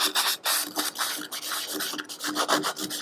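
A sanding pad worked by hand into the corners of a grill, giving quick repeated scratchy rubbing strokes close to the microphone, no speech.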